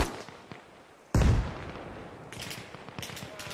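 GP grenade launcher firing in Arma Reforger: a single loud, sharp blast followed by a rumbling tail, then scattered distant gunfire cracks and pops in the background.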